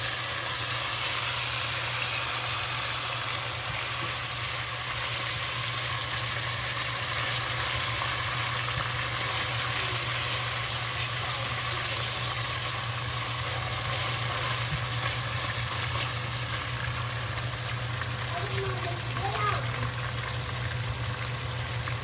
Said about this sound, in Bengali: রসুন বাটা আদা বাটা আমরা আদা বাটা এবং রসুন থেকে একটু ভেজে নেব